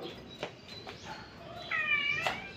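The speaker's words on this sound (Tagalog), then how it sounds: "Nandito na ang aking pusa." A house cat meows once, a short rising mew close by, amid a quiet morning room with faint background noise and a few soft knocks.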